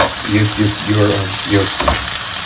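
Aubergine fries in oil in a big non-stick pan with a steady, close sizzle throughout, while a person talks over it.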